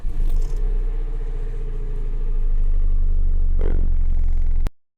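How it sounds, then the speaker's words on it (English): A Peugeot 107 car engine runs steadily and loudly, low and close, with a brief rising rev near the end before cutting off abruptly. "the microphone makes the car sound a lot louder than it actually is"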